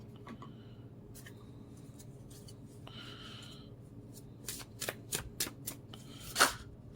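Sacred Traveler oracle cards are shuffled close by, quiet sliding at first, then a series of crisp riffling bursts and a final sharp flick.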